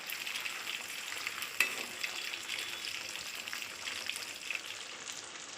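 Nethili anchovies fry in a small amount of oil, a few at a time, with a soft continuous sizzling hiss and one small clink partway through, close and fairly quiet with no talking.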